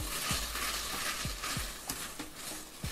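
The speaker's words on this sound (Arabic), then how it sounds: "هقلبها، بس انا عايزاها كلها ايه تتبطن بزيت الزيتون" Food being turned and stirred in a pan coated with olive oil, with soft repeated scrapes and knocks over a quiet, steady sizzle.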